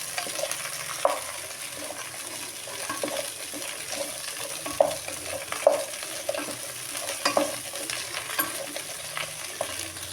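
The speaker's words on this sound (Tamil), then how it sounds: "அந்த அளவுக்கு நாம் இப்போ வதக்க போகிறோம்." Okra (vendakkai) sautéing in a pan for a masala curry, a continuous moderate sizzle punctuated by scattered clicks and scrapes of a spoon stirring against the pan, with no voices.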